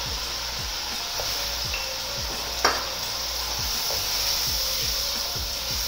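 Chicken frying in a pan with finely chopped tomatoes added, giving a steady loud hiss and sizzle with repeated soft stirring scrapes and one sharp clack partway through.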